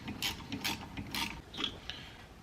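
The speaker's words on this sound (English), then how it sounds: "So I guess it's the guide pin itself that we were just wrenching out." A wrench or ratchet works a rusted front brake caliper guide pin loose on a 2017-or-later Ford Escape, giving a run of close, loud clicking and grinding mechanical bursts with short pauses between them.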